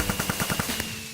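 Fireworks in the Minecraft video game go off in a fast, loud burst of about eight sharp pops, evenly spaced like rapid gunfire, then stop abruptly.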